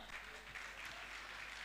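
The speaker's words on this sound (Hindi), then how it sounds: "आपकी तालियां।" Audience applause at a Jain muni's religious gathering, a soft, steady patter of many hands clapping at a distance.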